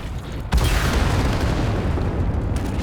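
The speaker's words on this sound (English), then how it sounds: "is this a rolling explosion, I guess?" A rolling explosion in the WWII strategy game Men of War: Assault Squad 2 gives one sudden loud boom, followed by a sustained low rumbling roar that holds steady for a couple of seconds.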